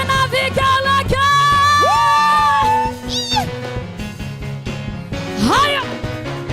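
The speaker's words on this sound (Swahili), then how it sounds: "Shangwe na vigelegele." A crowd at a Kikuyu church service cheers and ululates with high, wavering trilling calls and shouts, loud and close. Long ringing tones and music-like pitches run through it.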